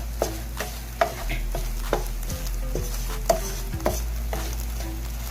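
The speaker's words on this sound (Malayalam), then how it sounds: "പൊടികൾ വഴന്നു കഴിഞ്ഞാൽ എല്ലാം കൂടി ഒന്ന് മിക്സ് ചെയ്യാം." Spice powders fry in a pan while a spoon stirs them, a gentle sizzle broken by about ten sharp, evenly spaced scrapes and taps against the pan, close up and with no voices.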